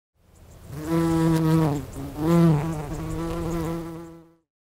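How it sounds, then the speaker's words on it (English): A bumblebee buzzes steadily and loudly on its own for about four seconds, its drone swelling twice before it cuts off. "Bumblebee."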